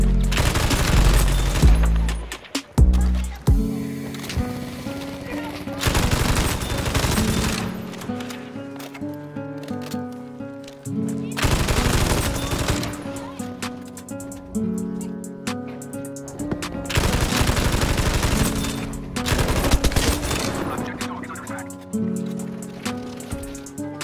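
Bursts of rapid MG42 machine-gun fire rattle out in Battlefield 5, repeated long volleys separated by short pauses, loud and close amid other battle noise.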